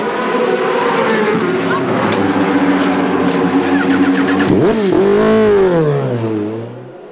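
A motorcycle speeds past during the Bol d'Or endurance race, its engine whine rising and then dropping sharply as it passes close by, over constant loud background engine noise.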